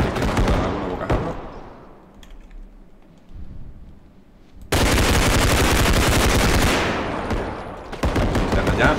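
Rapid rifle gunfire from the realistic shooter game Bodycam, including an M4, with a loud dense burst of shots filling the back half and an earlier single crack, under quieter game ambience.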